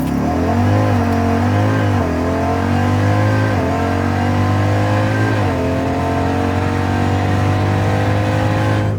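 A 1000 hp Jeep Trackhawk accelerates hard in a drag race, its engine roaring loud and close, with rising revs broken by clear gear shifts as it pulls continuously from a standstill toward high speed.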